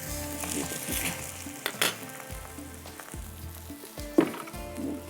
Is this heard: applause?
no